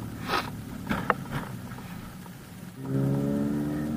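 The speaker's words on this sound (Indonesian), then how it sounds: "Ini jalannya rame guys, banyak truk." Vehicles rumble past nearby, then a heavy engine rises to a steady droning roar, like a passing truck on a busy road.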